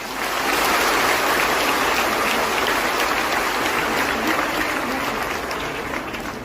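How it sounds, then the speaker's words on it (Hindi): Dense, sustained applause from a large crowd fills the space, steady and loud throughout, without any single voice standing out. "आप सबके लिए जोरदार ताली होनी चाहिए"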